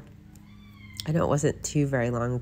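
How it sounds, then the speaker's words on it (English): A house cat meows loudly in a drawn-out wail, close by, then someone talks over further cat cries. "I don't know if you hear my cat screaming in the background."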